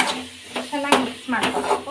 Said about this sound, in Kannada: ಒಂದ್ಸಲ ಮಿಕ್ಸ್ ಮಾಡ್ಕೊಳ್ಳೋಣ